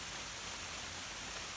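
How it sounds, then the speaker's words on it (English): Steady rain falling outdoors at an off-grid homestead, a dense, even hiss that holds at moderate level throughout with no voices. "Nice, it's raining. It's raining pretty good."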